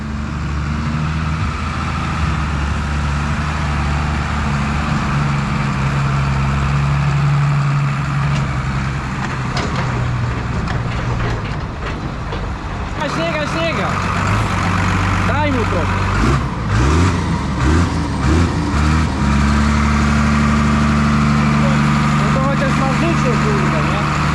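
Steady low diesel drone of a New Holland TM 155 farm tractor engine idling, loud and close, running continuously with slight rises in pitch while people talk over it.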